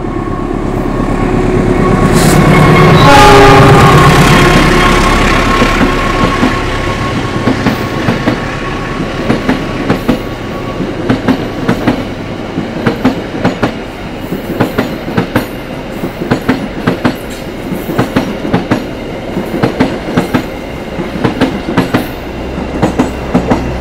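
The Sawunggalih passenger train on the Pasar Senen to Kutoarjo line rumbles along the rails. A loud swell early on gives way to a steady, rhythmic clickety-clack of wheels over rail joints.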